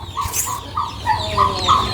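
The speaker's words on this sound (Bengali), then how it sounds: "এগুলো হচ্ছে সব দেশি মোরগ" Hens cluck in a steady series of short, nasal bursts, about six in two seconds, close by with a faint farmyard murmur behind.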